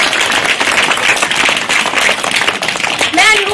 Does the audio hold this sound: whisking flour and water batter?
no